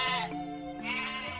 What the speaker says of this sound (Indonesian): datang serombongan kambing melintas di tempat itu